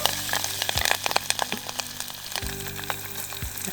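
Grated ginger, garlic, lemongrass and curry leaves frying in hot oil, a close crackling sizzle with spatters and a few stirring knocks against the pan.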